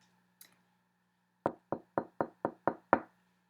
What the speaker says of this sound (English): She heard a soft knock at the door.